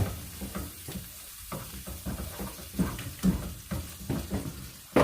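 Ground beef frying in a hot pan, a close, crackling sizzle broken by repeated scraping and stirring strokes at an uneven rhythm.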